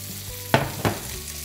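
Food fries in a pan for a spaghetti dish, giving a soft, steady sizzle broken by two quick scraping stirs close by.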